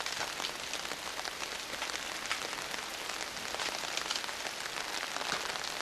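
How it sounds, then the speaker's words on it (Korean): Rain mixed with mud and gravel pours down a mountain cliff in the Himalayas of Bhutan, making a steady, dense hiss with no pause. "산 절벽에선 아직도 많은 양의 흙과 자갈이 빗물에 섞여 빠르게 쏟아져 내립니다"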